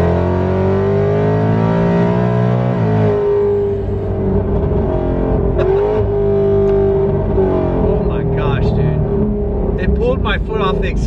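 A 2019 Ford Mustang GT with a built 5.2 VMP Odin supercharger accelerates from inside the cabin, the engine note loud and climbing through a gear change, then easing off as the throttle lifts, with someone talking over it.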